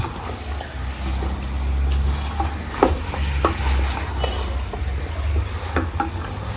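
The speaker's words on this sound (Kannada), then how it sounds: "ಚಿಕನ್ ಚೆನ್ನಾಗಿ 5 ನಿಮಿಷ ಫ್ರೈ ಆಗಿದೆ." Chicken fries in oil in a pan while being stirred for kori rotti chicken curry: a steady sizzle under a low background rumble, with intermittent scraping and tapping strokes of the spoon.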